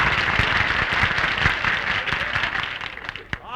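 Studio audience applause on a comedy radio show: dense, continuous clapping from many hands, fairly close and loud, tapering slightly toward the end.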